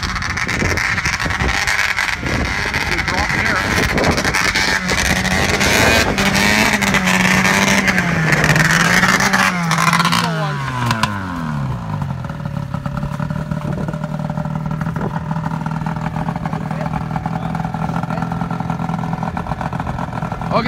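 Arctic Cat ZR440 snowmobile engine, freshly rebuilt with a fuel system fault, revving up loudly and bogging down with a wavering, stumbling pitch before settling into a rough, steady idle with some clatter; no talking.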